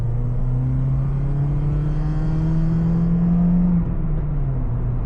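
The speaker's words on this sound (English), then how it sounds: "So let's do a pull from second gear." A cheap car accelerates hard from second gear, its engine droning loud and close with a steadily rising pitch before easing off near the end.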